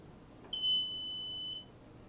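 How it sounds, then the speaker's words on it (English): A kitchen timer goes off while green tomato ketchup simmers, sounding as a single loud, steady electronic beep lasting about a second in a quiet room. "Timer went off"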